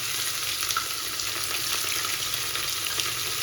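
Hot oil crackles and spatters steadily in a pan while tomato bath cooks, a continuous close sizzle with small pops throughout and no talking.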